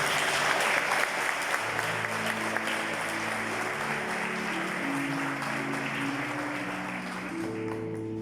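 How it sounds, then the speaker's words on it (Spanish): A church congregation applauds loudly and continuously during a sermon, the clapping dense and sustained while an organ or keyboard holds chords underneath. "Denle un aplauso fuerte al Señor."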